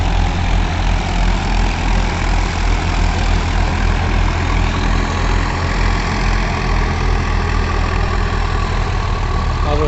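A heavy Mahindra 575 tractor engine runs steadily nearby with a rotavator, a loud, constant low rumble that holds throughout.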